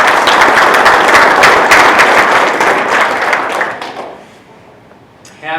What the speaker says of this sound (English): They all deserve another clap